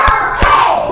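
A class of third-grade pupils clap their hands in a counted rhythm, two sharp claps standing out near and loud over a steady murmur of voices.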